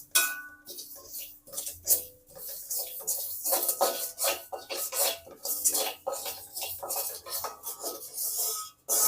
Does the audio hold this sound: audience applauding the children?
no